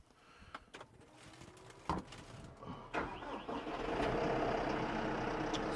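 A TYM T130 tractor engine cranks and starts nearby after a few clicks and knocks, then swells into a steady, loud rumble.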